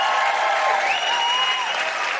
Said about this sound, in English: Can I have a huge, huge round of applause